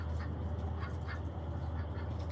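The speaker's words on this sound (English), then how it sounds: "there's an excitement honk where everyone's all pumped up when I'm first out here feeding them" Several backyard geese honk in short, excited bursts at feeding time, a rapid overlapping chorus close by with a steady outdoor noise underneath.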